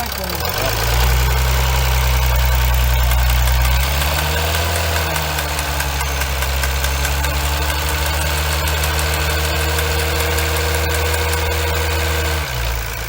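A Chrysler 300C engine runs in a workshop during fuel injector removal, loud and steady, with a rev rising at about four seconds and held before dropping back near the end; someone speaks briefly over it.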